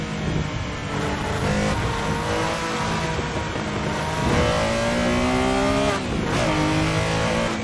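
A loud, high-revving flat-six engine in the racing game Assetto Corsa roars steadily, climbing in pitch through several gear changes with sharp shifts, close and continuous throughout.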